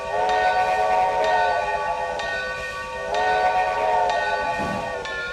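Locomotive whistle on a UPS 6 in Trainz 2022, sounding in several loud, sustained multi-tone blasts with short breaks between them, over a steady low rumble.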